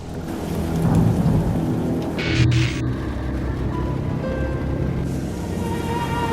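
Heavy summer monsoon rain in southern India pours steadily, with a deep rolling rumble of thunder swelling through the middle, dense and continuous with no voices.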